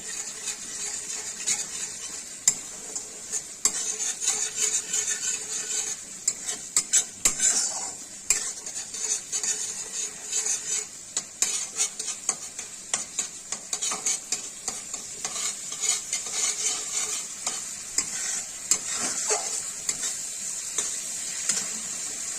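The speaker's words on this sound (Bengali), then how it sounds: "মশলা যত সুন্দর ভাজা হবে তরকারির স্বাদ তত ভালো হবে" Spice masala fries in oil for an egg muitha dish, a steady sizzle broken by frequent scrapes and clinks of a spoon stirring in the pan, close and continuous with no talking.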